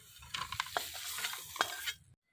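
Crab pieces fry in a pan for a Bengali crab curry, giving a soft sizzle broken by several scraping stirs of a spatula, close and fairly quiet, ending abruptly.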